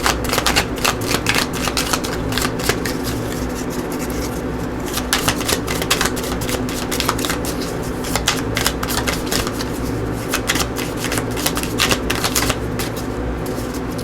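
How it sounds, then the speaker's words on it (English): Tarot cards are shuffled continuously and close up, giving dense riffling flutters and soft slaps for the whole stretch, with a voice faint in the background. "They're giving it a good shuffle here so that your perfect message will come out here."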